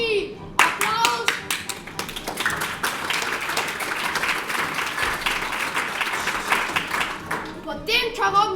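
An audience at a circus show with white mice applauds in a sustained, loud wash of clapping from many hands, with voices calling out at the start and end of the ovation.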